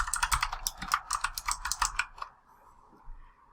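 Quick, close clicks of typing on a computer keyboard rattle out for about two seconds, then stop, leaving near silence with one faint tap.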